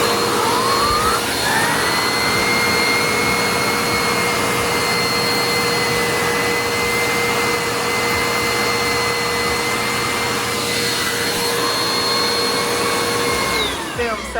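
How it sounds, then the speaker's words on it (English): A Eureka PowerSpeed vacuum cleaner whines steadily at full power, loud and close, its pitch rising as it spins up and dropping as it shuts off. "I'm going to go ahead and turn the vacuum cleaner on right here"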